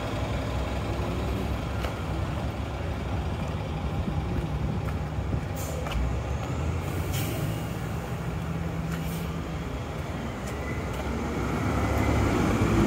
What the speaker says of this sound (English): So I can anticipate a lot of bus noise right here.